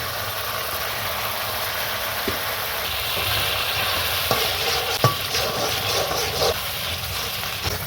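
A spice paste with poppy seeds, for a rohu fish posto curry, frying in a pan. It sizzles steadily up close while a spatula stirs and scrapes, with occasional sharp taps against the metal.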